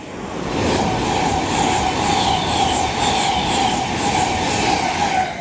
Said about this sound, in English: Pass through now is an LNER Zoomer from York to London King's Cross